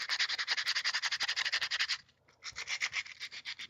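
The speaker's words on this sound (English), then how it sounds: "And you just go to town sanding everything down until it's as smooth as you want." Rapid, rhythmic scratchy rubbing strokes close up, steady for a couple of seconds, a brief pause, then more rasping back-and-forth strokes.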